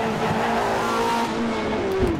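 Classic Tyrrell race car at Silverstone in rFactor 2 spinning out, a sustained engine whine with tyre squeal and skidding, close and steady over about two seconds.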